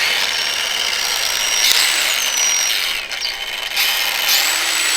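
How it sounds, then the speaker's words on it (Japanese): A Bosch X-LOCK GWX 18V-15 SC cordless angle grinder runs with no disc fitted, a steady high motor whine that holds for several seconds, dips briefly, then spins back up, loud and close. "グラインダーを回します"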